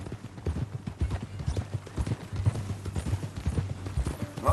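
A horse in Red Dead Redemption 2 walks along in a steady clip-clop, hoof strikes landing close and distinct in an even rhythm, with faint low background sound under them.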